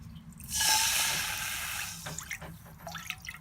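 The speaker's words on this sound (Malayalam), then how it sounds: "ഫസ്റ്റ് ഈ തലച്ചോറ് ഒന്ന് വേവിച്ചെടുക്കാം. അതിന് വേണ്ടി കുറച്ച് വെള്ളം ഒഴിച്ചു കൊടുക്കാം." Water is poured into a cooking pot to boil mutton brain, a short gushing splash that swells and then trails off into scattered drips and small wet sounds.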